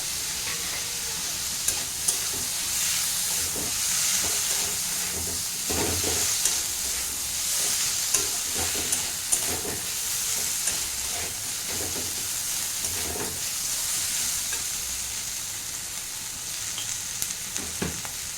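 Ginger and a whole dried red chili sizzle in hot oil in a pan, a steady bright crackling hiss with scattered pops and stirring sounds, no talking.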